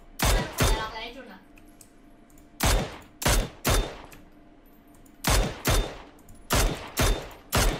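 Bursts of gunfire from a shooter video game during team practice, several loud sharp volleys in an irregular rhythm, while voices talk faintly in the background.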